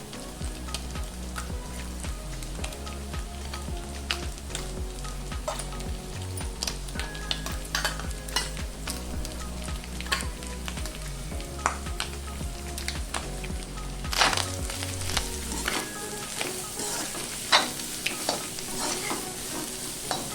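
Egg, chicken pieces and vegetables stir-fried over high flame for chicken fried rice, with steady sizzling and repeated scraping and stirring strokes in the pan throughout, close and fairly loud, with no talking.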